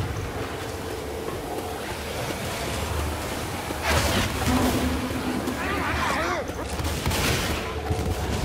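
A big gun fires in Left 4 Dead 2, a dense sustained roar of gunfire over a constant noisy game background, with bursts swelling louder midway and continuing steadily to the end.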